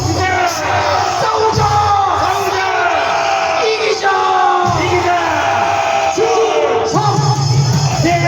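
A large crowd of protesters at a civic group rally shouts slogans together in loud, rhythmic unison, bursts of massed voices repeating chant after chant close and dense.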